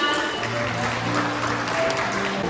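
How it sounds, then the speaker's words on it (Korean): Wedding guests clap together in a steady, dense burst of applause, with some background music tones underneath, sustained and fairly close throughout. "큰 박수 부탁드립니다"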